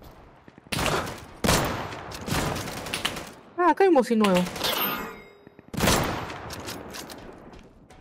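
Gunfire in the video game Deadside, several loud sharp bursts separated by pauses, with someone talking briefly between shots.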